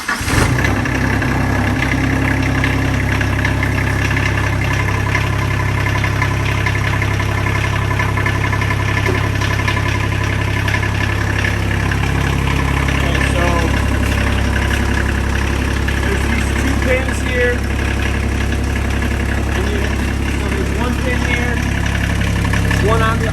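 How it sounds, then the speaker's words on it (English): RK25 compact tractor diesel engine idling steadily, loud and close with a constant low drone throughout, while someone talks over it. "start your tractor, turn the key on"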